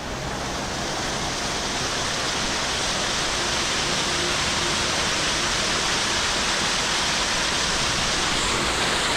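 Roaring waterfall at the base of Boogarem Falls in Mount Jerusalem National Park, NSW, Australia: a steady, loud, broadband rush of falling water that fills the whole clip without letting up.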